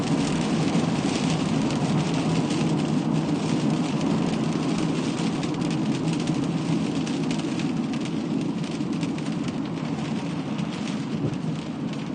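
Steady rain falls continuously in a tropical setting, a dense even wash of drops with no breaks, loud and close throughout.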